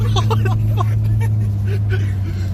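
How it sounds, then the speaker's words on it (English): A Jeep on a rough ride gives a steady, loud low engine drone throughout, with voices talking over it near the start. "It's a rough ride in the Jeep"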